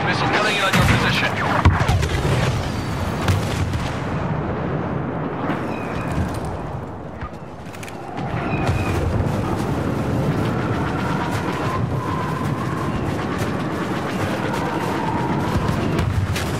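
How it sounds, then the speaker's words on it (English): Heavy explosive booms and rumbling blasts from an enemy missile strike during a Walker Assault match in Star Wars Battlefront on Xbox One, dense and loud throughout, with a brief lull midway before the barrage resumes. "Enemy missile launched. Watch out. Missile coming in on your position."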